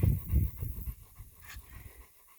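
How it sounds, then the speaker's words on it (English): A Cane Corso puppy pants and fusses in the background, a soft rhythmic breathing with a few louder huffs at the start that fade to faint panting. "You'll have to forgive the puppy in the background having a meltdown."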